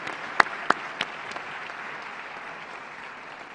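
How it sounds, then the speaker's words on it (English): Audience applause for a conference panel at the 2019 AFI Global Policy Forum, a steady moderate patter of clapping with a few sharper individual claps near the start, fading slightly toward the end. "I think a big applause to everyone on the panel."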